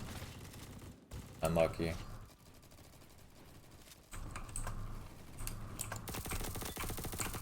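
Scorpion Evo submachine gun firing in the Roblox game Bad Business, rapid full-auto bursts of moderate loudness with short pauses, mixed with keyboard clatter and a player's brief speech.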